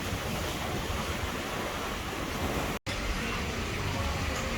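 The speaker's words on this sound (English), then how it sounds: "The waves are crazy. There is so much wind today." Crashing ocean surf and strong wind on an Australian beach on a rough day, a dense continuous roar with heavy wind buffeting the microphone and one brief dropout.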